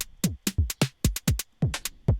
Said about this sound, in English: opening a bit the pan and randomness so they can play a bit with the stereo. I'm talking about the hi-hats.